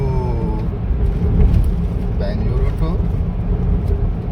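A Maruti Alto K10 car drives along the road on a long trip from Bangalore, with a steady low engine and road rumble close by underneath continuous talking inside the cabin.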